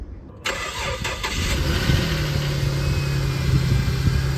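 A 2004 Jeep Liberty engine cranks briefly and catches, then settles into a steady, loud idle close by, with no talking.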